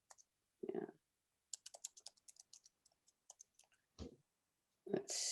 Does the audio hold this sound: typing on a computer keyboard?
yes